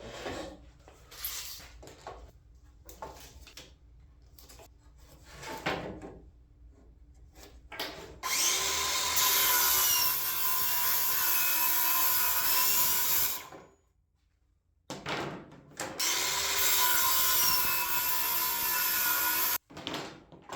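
A power saw cuts through old skis for a chair build in two long, loud stretches, each several seconds, with quieter handling and scraping in the gaps between.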